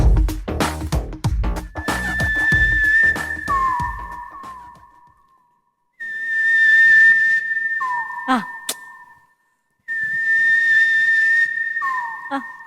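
Clear, sustained whistled notes with sliding pitch drops, repeated in three phrases separated by pauses, close and fairly loud, sounding like an imitated birdcall.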